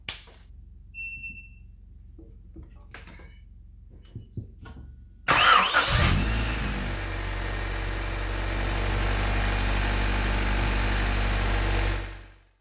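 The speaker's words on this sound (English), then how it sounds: "So now let's give the car a crank and we can listen to see if" A 1988-91 Honda Civic/CRX (EF9/ED7) engine cranks briefly after a few quiet clicks, then catches and settles into a loud, steady idle close by before cutting off.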